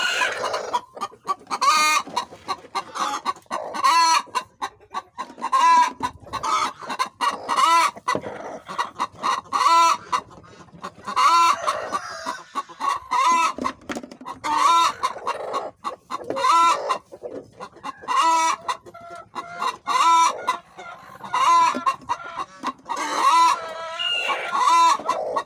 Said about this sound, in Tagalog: Maingay ka manok.